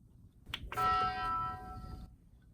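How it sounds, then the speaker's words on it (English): Short special chime from a Taco Bell edition Xbox One X, a bright bell-like ding with ringing harmonics that rises quickly, holds for over a second and fades, heard alone in a quiet room. "that's the Taco Bell sound"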